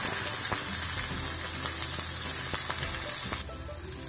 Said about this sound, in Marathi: कांदा मस्त आपण तेलात परतवून घ्यायचा आहे आणि थोडासा लाल असा करून घ्यायचा आहे।